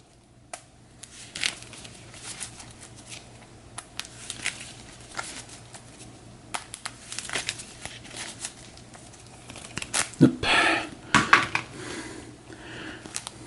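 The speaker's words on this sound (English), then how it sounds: "Give this a shuffle." Cards from an Arkham Horror 2nd Edition board game deck being shuffled at a table, a quiet run of soft riffling and patter that swells into louder, denser snapping bursts near the end.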